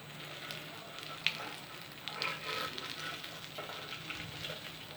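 Eggs fry in a pan over low heat, giving a soft, steady sizzle with a few brief clicks and scrapes, close and quiet, with no talking.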